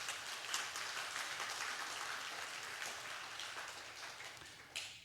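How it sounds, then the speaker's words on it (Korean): Church congregation at a Friday prayer meeting clapping in encouragement, a soft, even patter of many hands that stays faint and distant throughout, with one slightly louder burst near the end. "우리 박수로 한번 격려 한번 하도록 하겠습니다"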